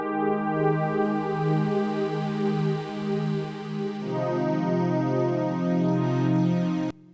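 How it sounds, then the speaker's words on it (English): Sustained synth pad chords from an Analog Lab preset ring out alone, holding one rich chord for several seconds before shifting to a lower voicing and cutting off abruptly near the end. "I started out with these chords on a pad sound. We got this preset from Analog Lab."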